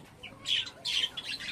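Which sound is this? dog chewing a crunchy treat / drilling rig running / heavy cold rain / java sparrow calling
java sparrow calling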